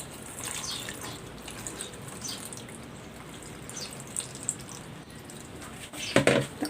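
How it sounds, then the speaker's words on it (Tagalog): Water runs and splashes into a pot of suman rice cakes, a soft steady trickle with a few drips, then a brief louder clatter near the end. "Lalagyan ko na ito ng tubig."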